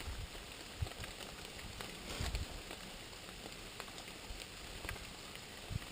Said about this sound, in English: And the rain is coming down out there.